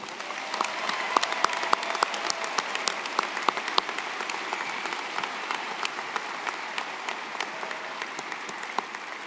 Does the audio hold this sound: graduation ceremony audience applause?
yes